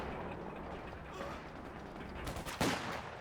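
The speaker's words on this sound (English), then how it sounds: "Here comes the flak panzer looking to polish them off." Flak panzer gunfire in Company of Heroes 2, a dense crackling fusillade of automatic cannon shots over a steady battlefield rumble, with a sharp louder burst near the end.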